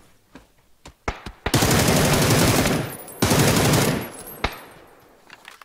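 Gunfire in the video game PUBG: a few sharp single shots, then two long, loud automatic bursts of rapid fire, with scattered isolated shots trailing after; no talking.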